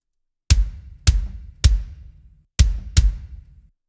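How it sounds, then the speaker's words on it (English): Five punchy layered kick drum hits in a music mix, each a sharp loud attack with a deep booming tail, spaced irregularly about half a second apart, with no other sound. "But like just putting that sample on and then putting it with the other kick drum, you already have a sound like this."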